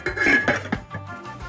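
A metal lid clanks onto a saucepan of food cooking in oil with a brief ringing clatter, followed by a couple of softer knocks.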